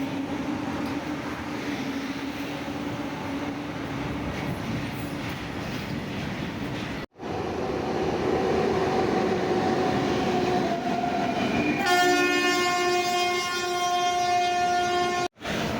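A train rumbles past steadily at a railway station near Bangalore, loud and continuous with a brief break in the middle, before a long, tonal train horn sounds near the end.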